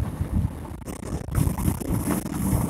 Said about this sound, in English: It's windy, I'm driving fast.